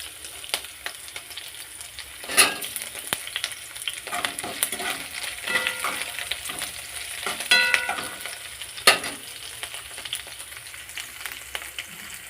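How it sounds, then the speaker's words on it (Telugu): Green chillies and curry leaves fry in a pan for veg masala Maggi noodles, giving a steady close sizzle with scraping stirs and a few sharp clinks of a spoon against the pan, and no talking. "పచ్చిమిర్చిని వేస్తున్నాను. ఇలా ఫ్రై కావాలి."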